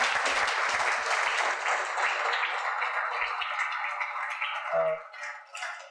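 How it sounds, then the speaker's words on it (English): Audience applause fills a room after an engineering-culture talk, a dense steady wash of clapping lasting several seconds before tapering off, with a brief voice near the end. "quick round of applause."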